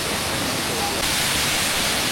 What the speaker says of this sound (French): Il y a juste le bruit de la cascade d'eau